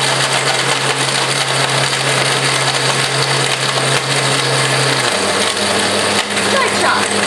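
A blender whirs loudly and steadily, crushing a couple of ice cubes into a cold drink, its motor pitch dropping partway through as the contents loosen.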